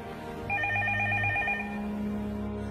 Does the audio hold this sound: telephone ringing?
yes